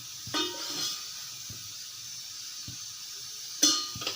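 Mustard seeds popping in hot groundnut oil in a pan, a soft steady sizzle with a few sharp crackles and pops scattered through, quiet and close with no talking.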